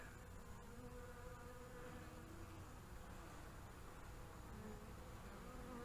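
Honey bees at a top bar hive make a steady, faint, unbroken buzz that carries on without pause and without voices.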